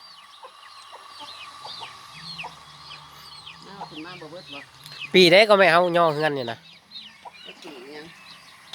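Chickens cluck repeatedly around a rural family house, with a loud burst of rooster-like calls in the middle; someone talks in the foreground throughout.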